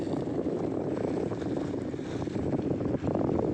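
Sea water washing steadily against the shore on a moonlit night along the Chanthaburi coast, a continuous close rushing wash with no pauses and no voices.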